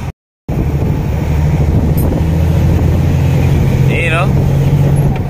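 A car engine with an injection-pump-type motor idles steadily at close range, a low continuous drone with wind buffeting the microphone after a brief dropout at the start.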